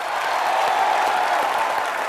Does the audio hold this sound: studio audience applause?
yes